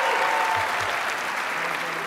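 Brief, dense applause from an audience at an Ignite Phoenix talk event, steady and fairly loud for its whole short span.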